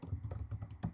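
Rapid, steady clicking of keys on a computer keyboard, close and fairly quiet, with no voices.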